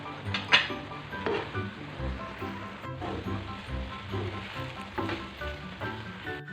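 Topokki rice cakes stir-fry with spring onion in a pan, giving a steady soft sizzle with scattered scraping clicks from stirring throughout.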